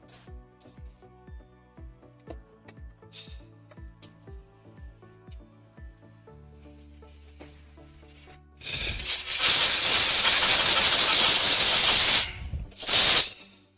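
Two loud bursts of compressed air blast sanding dust out of a turned wooden bowl. A long roaring hiss is followed by a short second puff, after a quieter stretch of ticking and humming workshop noise.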